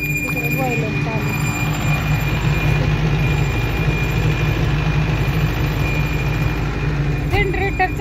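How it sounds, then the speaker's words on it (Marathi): A generator runs steadily through the night at a paneer-making setup. Its heavy, continuous low-pitched drone is close and loud, with faint voices somewhere behind it. "जनरेटर चालू आहे ना."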